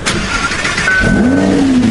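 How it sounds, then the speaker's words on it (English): A Lamborghini Huracan with super low miles, being rebuilt after a wreck, cranks and catches, its engine rising from starter churn into a loud close idle with a climbing tone. "And the car starts"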